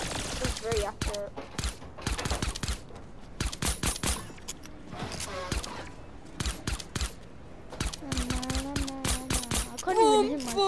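Repeated gun shots in the video game Fortnite, sharp separate cracks in quick irregular bursts, with a player talking between and over the shots.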